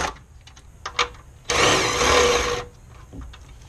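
A tool whirs for about a second as it removes the 10mm nuts that hold the coolant reservoir on a 2001 Ford Escape 3.0L, close up. Light clicks and taps come before and after it.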